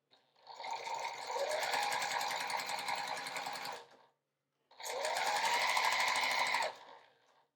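A sewing machine stitches quilt blocks and sashing together in two close, steady bursts of rapid needle clatter, the motor whirring up and running evenly, separated by a short pause.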